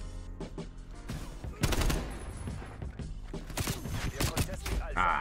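Rapid bursts of automatic gunfire and single shots crack in a Call of Duty Cold War league match, dense and loud, with players talking over the shooting.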